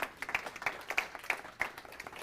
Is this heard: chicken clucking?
no